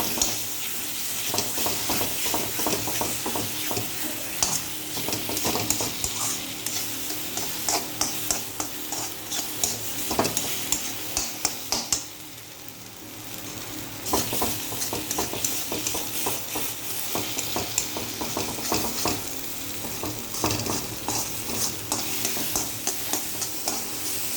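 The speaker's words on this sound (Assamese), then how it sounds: "লাৰি ফ্ৰাই কৰি আছোঁ" Small tingora fish stir-frying with salt in a hot pan, a steady loud sizzle broken by constant scraping and stirring clicks, with a short quieter dip midway.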